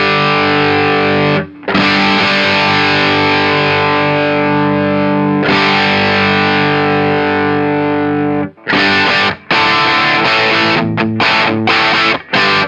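Electric guitar runs through an Eastwood Black Box drive pedal with the tone knob at noon, giving loud, thick distorted chords that sustain for long stretches, then break into choppier strummed bursts with brief gaps.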